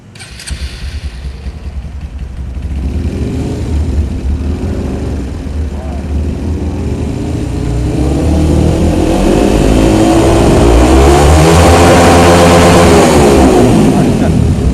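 A motorcycle engine tuned with a Juken 5 ECU revs up gradually, its loud note climbing and growing stronger over the span with a steady throttle, close to the mic, while a voice is heard briefly.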